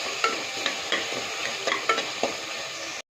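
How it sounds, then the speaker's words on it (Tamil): Salt, cumin powder and pepper powder sauté in a pan for rasam, a steady close sizzle broken by repeated soft scrapes of a spoon stirring, with no voices. "நல்லா ஸ்மாஷ் ஆகிற வரைக்கும் நல்லா வதங்கட்டும்"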